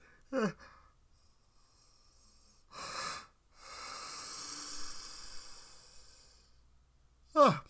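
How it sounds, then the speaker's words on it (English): A single long, breathy yawn from a man, drawn out over several seconds with a sighing, hissing exhale, framed by short spoken bursts at the start and end. "I have a yawn that's coming up, and I'm waiting for it to come out"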